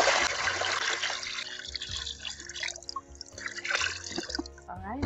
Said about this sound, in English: now that we add our water